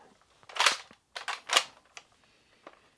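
A Nerf Rival Curve Shot Sideswipe XXI-1200 foam-ball blaster fires indoors, several sharp pneumatic pops in a loose cluster, loud and close, followed by faint mechanical clicks.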